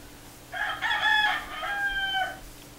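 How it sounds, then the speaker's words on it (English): A wild rooster in a backyard on Maui crows loudly and close by, one drawn-out cock-a-doodle-doo with a faint steady hum underneath. "chickens, wild chickens on Maui, wild chickens in my backyard."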